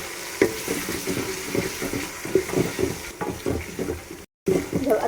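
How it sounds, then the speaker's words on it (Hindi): Ginger garlic paste and onions fry in a pan for kadhi pakora, making a moderate sizzle with repeated stirring knocks and scrapes that briefly cut out near the end. "अदरक लहसुन के पेस्ट को भी हम थोड़ा सा भून लेते हैं।"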